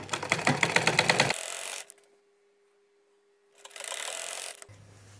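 A sewing machine runs stitching a double-folded hem on a large hijab, a loud steady mechanical whir for over a second, then silence, then a second shorter burst of stitching, close and alone.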